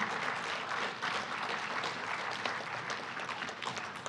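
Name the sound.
audience applause at a candidate forum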